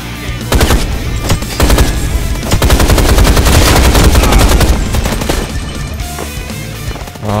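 Enemies blast away with machine guns in Rise of the Triad, bursts of rapid gunfire clustering into a loud, dense barrage before tapering off, close and punchy with no speech over it.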